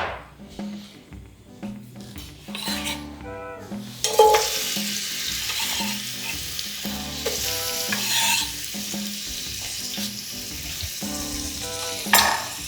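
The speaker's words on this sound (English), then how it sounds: "Add some oil in there so this sautés." Chili stirred and sautéing in hot oil for a spicy barbecue sauce, a steady close sizzle broken by repeated scraping stirs, with busy kitchen clatter and no talk.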